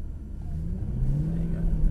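Mercedes car at Brooklands under hard acceleration, its engine rumbling steadily and building in pitch and loudness across the stretch, close and continuous.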